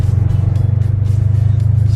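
A Subaru STi pulls away from a stop on a test drive, its engine giving a loud, steady low rumble with rapid pulsing throb throughout, heard close from inside the car.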